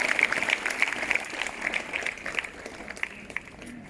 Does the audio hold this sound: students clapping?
yes